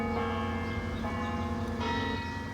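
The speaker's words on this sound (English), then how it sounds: "Bells in the city." Church bells ring in Buffalo, New York, with several overlapping tolls that leave a dense, sustained metallic resonance, heard loud and close.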